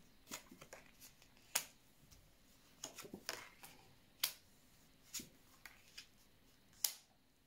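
Tarot cards are laid down one at a time on a table, giving sharp, snappy slaps at irregular intervals, each crisp and fairly close, with quiet pauses between.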